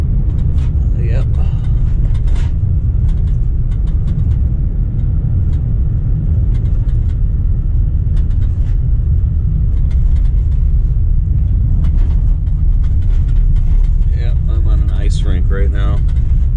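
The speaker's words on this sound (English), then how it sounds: "I think I'm driving on ice right now." Car interior on an icy, snow-covered road, a loud steady low rumble of engine and tyres throughout, with someone speaking over it.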